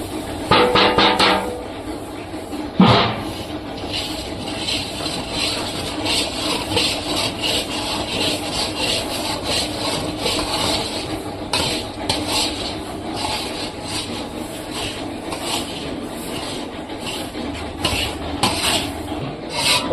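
Rice flour dough for ellu adai is stirred in a pot, producing a continuous scraping and rubbing texture with irregular knocks of the utensil against the pot, close and fairly loud.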